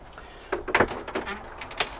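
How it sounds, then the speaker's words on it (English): A cab blind being pulled on the hab door of a Bailey Adamo 75-4T camper van, a short series of close rattling, sliding clicks and a sharper snap near the end, with no talking. "Cab blind, a blind on it."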